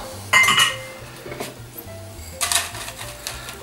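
Ingredients and spices tipped into a bowl for a poultry marinade, with onions and parsley nearby: a bright clink and clatter near the start, a second burst of knocks later, and quiet rustling between them. No one talks.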